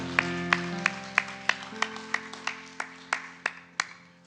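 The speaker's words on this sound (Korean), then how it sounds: "한번 큰 박수로 영광 올리며 나아가겠습니다" Hands clap in a steady, even beat, about three claps a second, over sustained music and singing at a Korean church Sunday worship service.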